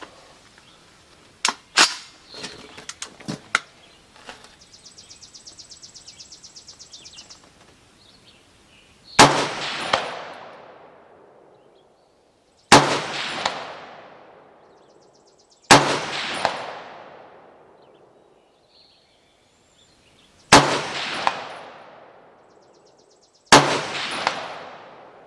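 Shots from a Noreen BN36X3 AR-platform rifle in 30-06 fired at steel targets, five loud, sharp booms spaced a few seconds apart, each with a long decaying echo, after some earlier clicks and handling noise.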